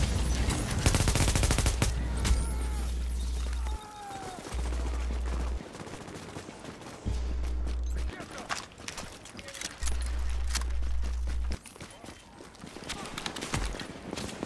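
Video game gunfire in a Dark Zone shooter match, an enemy hip firing in bursts and rapid volleys mixed with heavy ambient game noise, while players talk over voice chat.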